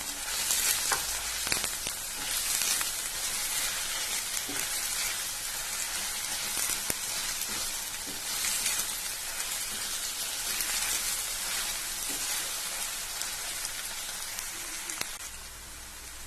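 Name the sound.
chicken masala sautéing in a pan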